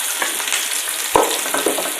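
Shrimp paste (terasi) frying in oil for Acehnese sambal, a close, loud crackling sizzle with brief stirring scrapes and pops.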